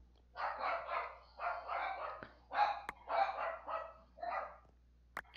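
A dog barking repeatedly in bursts of several close, fairly loud barks separated by short pauses, with a few sharp clicks and no speech over the barking.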